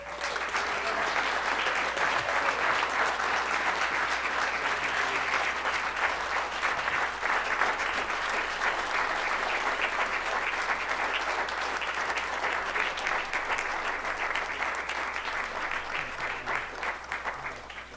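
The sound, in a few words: city council audience applause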